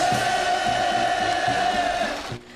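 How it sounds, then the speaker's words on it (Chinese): A crowd cheers loudly at a North Korean greenhouse farm groundbreaking ceremony attended by Kim Jong Un. The massed voices hold a sustained, ringing roar and then fade away at the end. "北韩领导人金正恩在欢呼声中出席温室农场动土"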